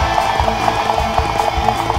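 A horse gallops in the video game Dynasty Warriors 4, with steady, rapid clip-clop hoofbeats over a dense, loud game soundscape.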